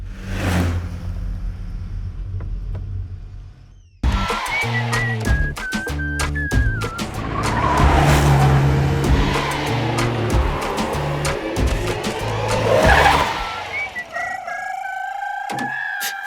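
A jeep brakes hard with its tires skidding, a loud screeching slide over a rumbling engine that lasts several seconds before cutting off, with other busy sounds mixed around it.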